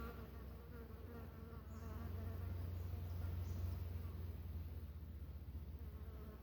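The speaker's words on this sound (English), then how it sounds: "aware of the fly buzzing around" A fly buzzes around a quiet indoor space, a continuous droning hum that swells slightly nearer midway and then eases, with no talk.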